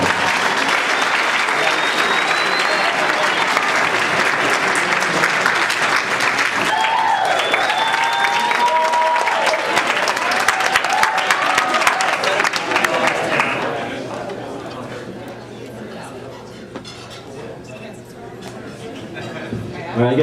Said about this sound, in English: Nice round of applause for Barbara having the first dance of America.